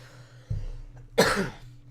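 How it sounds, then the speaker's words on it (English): A single sharp, loud cough from a person who is still slightly ill bursts out after a brief muffled throat sound, then silence. "I'm trying to choke back a cough."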